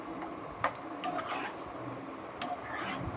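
Pasta tossed with chili flakes in a pan gives quiet scraping and a few sharp clinks of a utensil against the metal, faint and close, with no one speaking.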